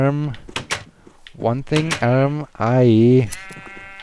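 Sheep bleat in the Minecraft video game, a few short tonal cries mixed in with someone talking over them.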